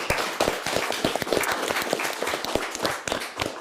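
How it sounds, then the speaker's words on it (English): A school quiz show audience applauds both teams after the final round, dense clapping from a small crowd that runs steadily and fades slightly toward the end. "Round of applause"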